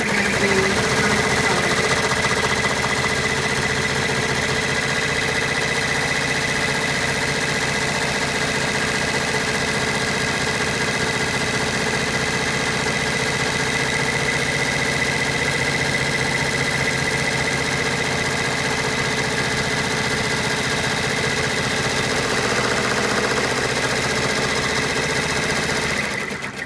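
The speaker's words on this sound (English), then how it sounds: "return the hoop to the machine. It's now stitching out the" An embroidery machine stitches out a zippered in-the-hoop purse, making a loud, continuous rapid mechanical chatter and whir that holds steady throughout without pause.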